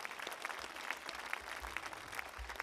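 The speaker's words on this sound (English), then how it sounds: "Yeah, I'll clap for that." Faint, thin applause at an elementary school commencement, scattered claps with a few sharper individual hits over low background rumble.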